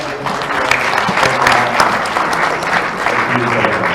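Seminar audience at an international One Health seminar in Bogor applauding, a dense, steady wash of many hands clapping close by for about four seconds, with no speech over it.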